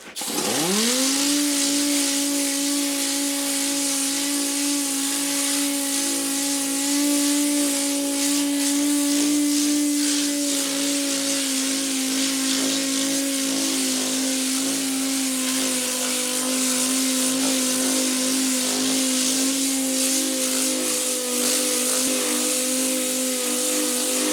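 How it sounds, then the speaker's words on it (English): An air-powered 6-inch DA sander with 80 grit sandpaper spins up and runs continuously on a tractor part, a loud steady high-pitched whine with gritty hiss throughout. "I'm just using a pretty standard 6-inch DA sander, air powered, of course, 80 grit sandpaper"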